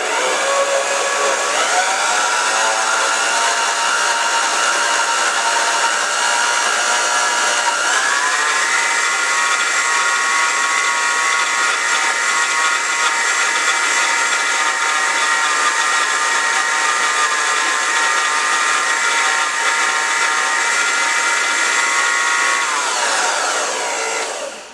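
An electric stand mixer creams brown and white sugar in a continuous loud, close motor whine with a steady hum that shifts pitch slightly a few times and runs almost twenty-five seconds before cutting off.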